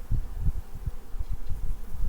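A low, dense buzzing of many honeybees around a hive in the evening, with soft rustling thumps pulsing through it, close by and continuous.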